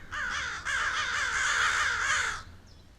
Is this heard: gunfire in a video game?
no